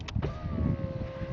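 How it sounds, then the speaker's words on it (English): Electric windows on a car going up during a driving lesson, a steady motor whine that runs for about a second over the low rumble of the idling engine, close and fairly quiet. "if we put the windows up, I'll stick the aircon on"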